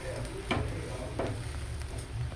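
Buttered garlic bread toasting in a pan gives a steady, soft sizzle, with a few brief scraping or handling sounds over it. No one speaks.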